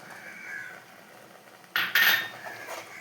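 Curd being stirred into chicken in a pan for an oil-free chicken dish, with soft scraping that gives way to two brief, louder metallic clinks of a spoon against the pan near the end.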